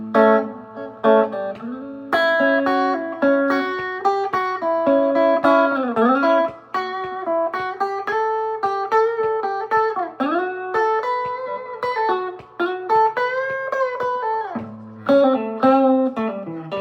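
An electric guitar, lightly overdriven, solos blues-style over the E five chord in a Crossroads progression, with bent notes, quick runs and sustained phrases, close and prominent throughout.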